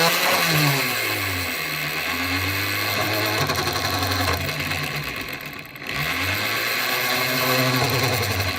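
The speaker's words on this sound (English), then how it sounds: "then I come back with an 1/8 inch drill bit" A small 1/8 inch bit drills into a handmade pin, a continuous close whirring drone whose pitch sags and recovers as the tool bites, with a brief dip near the end before spinning back up.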